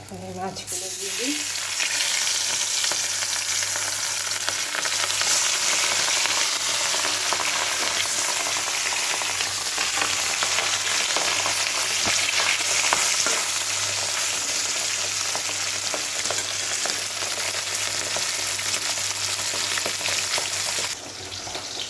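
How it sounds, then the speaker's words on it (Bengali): Rohu fish pieces frying in a pan give off a loud, steady sizzle with crackling oil that holds without a break, and no one speaks over it. "মাছগুলো ভাজা হচ্ছে"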